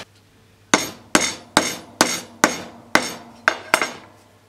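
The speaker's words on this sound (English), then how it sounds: "hit it with the hammer" Eight sharp metallic hammer blows on metal over a mandrel ring out one after another at a steady pace, each strike loud and close with a brief ringing decay.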